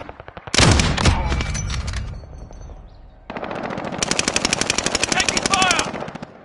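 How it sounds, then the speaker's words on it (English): Automatic gunfire in the video game Warzone comes as two loud, rapid bursts separated by a brief lull, with game sounds ringing between them. "he's shooting at me"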